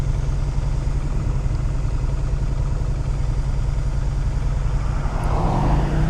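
Low, steady engine rumble of motorcycles riding in a group, including a Ducati Diavel and a Honda NC750X, with a car's whooshing engine swelling close by near the end.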